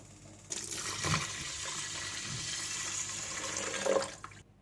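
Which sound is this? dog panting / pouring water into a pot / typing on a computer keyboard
pouring water into a pot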